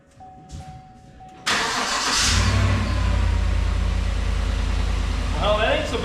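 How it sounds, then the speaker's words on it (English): A Chevy Tahoe engine with a newly replaced fuel pump cranks and catches abruptly, then settles into a loud, steady idle nearby after a short chime and faint background noise. "it'll be a long crank for sure because we got to prime the pump"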